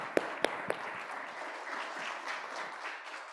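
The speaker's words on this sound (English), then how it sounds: "So please join me in giving them a big round of applause." Audience applause fills a keynote hall at a search and AI applications conference: a few sharp, close claps open it, then a steady, dense wash of clapping carries on throughout.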